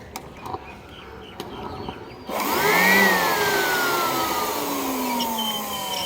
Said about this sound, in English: See, here I have a blower machine. You may be knowing it's called industrial blower